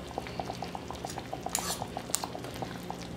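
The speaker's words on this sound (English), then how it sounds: "I'm going to put it on a spoon, and then I'm just going to dump it" A spoon taps and scrapes against a pot of simmering Puerto Rican sancocho stew, with soft rhythmic clinks over quiet bubbling.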